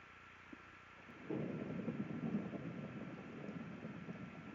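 Low rolling thunder in Minecraft, a faint rumble that swells after about a second and lingers at moderate level under a quiet background hiss.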